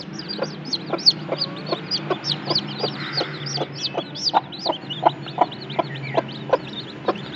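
An Aseel hen clucks repeatedly in quick, rhythmic bursts close by, with faint newborn chick peeping and low background rumble.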